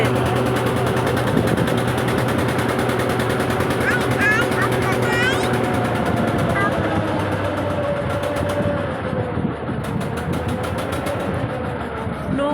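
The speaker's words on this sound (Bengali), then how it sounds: "নৌকা করে এপারে আসছি" A motor boat's engine drones steadily while crossing the Ganges, a close, continuous throbbing hum with faint chirps and voices in the background.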